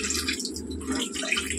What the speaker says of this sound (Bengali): সামান্য জল অ্যাড করব